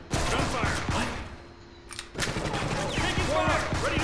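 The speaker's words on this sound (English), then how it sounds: "What was that? Gunfire." Gunfire in the video game Counter Spy comes as rapid volleys of close, sharp automatic shots, pausing briefly and then resuming, with voices talking over the shooting.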